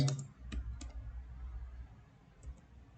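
Someone types a search query on a computer keyboard, making a short burst of light, scattered key clicks that thin out toward the end.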